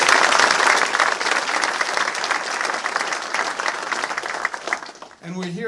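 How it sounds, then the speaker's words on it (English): Uniformed officers applauding themselves at a bill signing: loud, sustained clapping from a large room that slowly thins out, ending with a voice starting to speak. "Give yourselves a round of applause."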